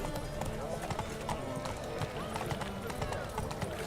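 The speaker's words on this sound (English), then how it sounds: "let's just leave the horse here." Horse hooves clip-clop steadily in The Witcher 3 under continuous game ambience and overlapping talk, the rhythmic plodding close and fairly even throughout.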